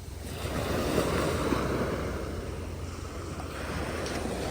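Waves wash onto a beach in Cancun, Mexico, as a steady, close roar of surf with some wind buffeting the microphone and no voices.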